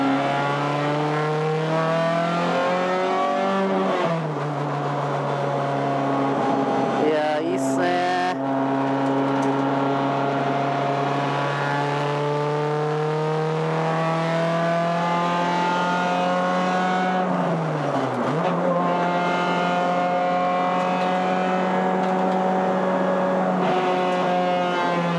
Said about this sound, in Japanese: おっさんの声を聞くよりも VTEC サウンドを聞かせてくれという方も多いかもしれませんが